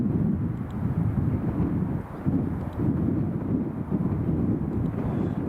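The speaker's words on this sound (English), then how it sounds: "One of Aer Lingus's Airbus A321 Neos, EIXLT, is coming in from Dublin" Aer Lingus Airbus A321neo EI-XLT arriving at Edinburgh Airport from Dublin, a steady low broadband roar of jet engines, continuous and fairly distant, with wind buffeting the microphone throughout.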